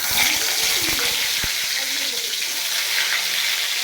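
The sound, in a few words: white brinjal slices frying in hot oil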